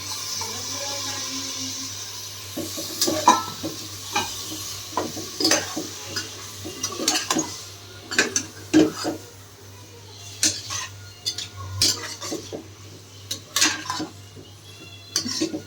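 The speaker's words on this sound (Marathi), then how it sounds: "ह्याच्यामध्ये आपण कोलंबी जी आपण मॅरिनेट करून ठेवली होती ती ॲड करून घेऊया आणि ती मसाल्यासोबत परतूया." Marinated prawns being sautéed with masala in a pan for Maharashtrian prawn rice, with repeated spatula scrapes and clinks against the pan over a low steady sizzle and hum, close and fairly busy throughout.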